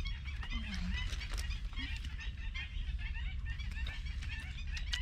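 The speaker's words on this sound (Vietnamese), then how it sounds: "Chim gì kêu dữ vậy anh?" Geese honking loudly at a campsite in Can Gio, repeated harsh calls in irregular bursts, fairly close over steady background noise.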